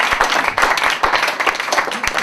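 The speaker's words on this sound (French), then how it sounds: "C'est pas mal du tout, on peut l'applaudir." An audience applauds steadily, with sharp individual claps standing out from the dense clapping throughout.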